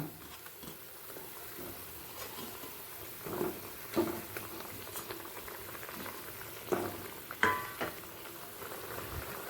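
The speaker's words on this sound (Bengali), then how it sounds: "গ্রেভিটা ফুটে গেছে এরপর একে একে দিয়ে দেব বড়া" Gravy for chickpea dal fritters (dhoka dalna) bubbles in a pan on high flame, a soft continuous simmer with occasional louder pops and stirring clinks.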